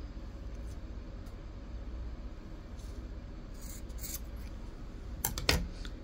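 Scissors snip through crochet yarn while finishing a bralette tassel, a short close cutting sound near the end after a stretch of quiet handling noise.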